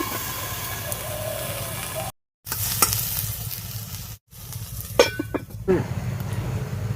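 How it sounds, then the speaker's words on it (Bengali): Chopped eggplant frying in a pan sizzles steadily while a spoon stirs it, with a few sharp scraping clicks toward the end. Two short silent gaps interrupt the frying. "বেগুনটাকে একটু নাড়াচাড়া করে ভেজে নেব"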